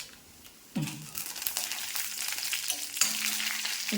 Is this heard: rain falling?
no